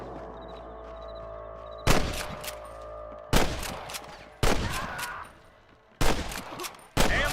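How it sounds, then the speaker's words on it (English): A Red Dead Redemption shootout at Pike Station fires off several loud bursts of gunshots in irregular clusters, each sharp crack trailing into echo, with a low background hum before the first volley. "I can hear more gunshots"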